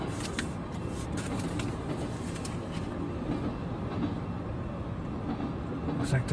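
Freight train of autorack cars carrying automobiles rolls steadily past nearby, a continuous rumbling wheel-and-rail roar with faint clicks, holding an even level throughout.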